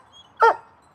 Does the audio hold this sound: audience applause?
no